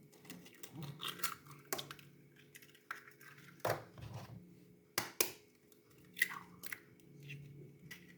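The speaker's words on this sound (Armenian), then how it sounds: "առաջինը ջարդենք ձուն" An egg cracked in a home kitchen while making batter for thin blinchiki pancakes, heard as a few sharp, close clicks and cracks standing out from quiet handling noises.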